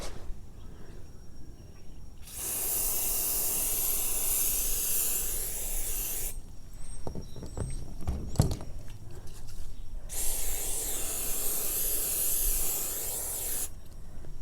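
Leather protector aerosol hisses onto a Louis Vuitton vachetta leather bag in two sustained bursts, loud and close, with soft clicks and rustling handling noises in the gap between them.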